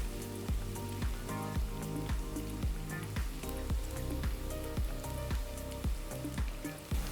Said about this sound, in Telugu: ఉల్లిపాయలు మంచి ఒక గోల్డెన్ రంగులోకి వచ్చే వరకు మనం సాటే చేసుకోవాలి